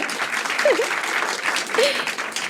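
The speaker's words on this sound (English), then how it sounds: "Yay, clap." Audience clapping to welcome author Amy Bloom at a live book event, a continuous moderate patter with brief voiced sounds over it.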